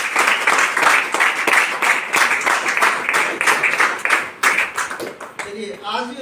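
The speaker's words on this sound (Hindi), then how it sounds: "तो मैं उनके लिए भी जोरदार तालियां चाहूँगा।" Loud audience applause at a business celebration event, dense steady clapping for about five seconds before it thins out, with a voice starting to speak near the end.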